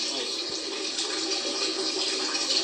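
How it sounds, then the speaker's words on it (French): Water runs steadily from a household tap, a continuous broadband hiss and splash that holds at an even level throughout with no talking over it. "C'est le robinet, papa."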